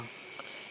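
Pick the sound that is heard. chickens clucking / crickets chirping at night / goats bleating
crickets chirping at night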